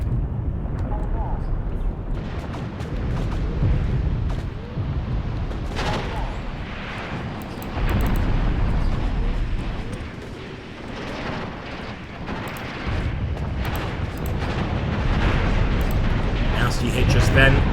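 Katyusha rocket artillery explosions in a war video game boom and rumble continuously, heavy low blasts rising and falling beneath a voice talking throughout.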